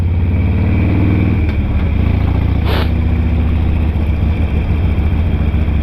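A Harley-Davidson Sportster 883 motorcycle engine drones loud and steady while riding, with a low rumbling exhaust note, a brief shift in tone early on and constant wind noise throughout.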